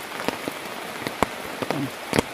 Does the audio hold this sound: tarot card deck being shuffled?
no